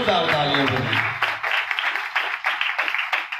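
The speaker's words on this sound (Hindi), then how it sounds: "जोरदार तालियां बजाएं" A congregation at a religious gathering claps loudly, brisk rhythmic applause that starts under a speaking voice and continues alone for a few seconds.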